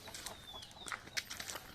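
Chickens cluck and chirp in short, faint bursts at a mixed farm and bird garden in Nong Khai, Thailand, several brief calls overlapping quietly over soft background noise.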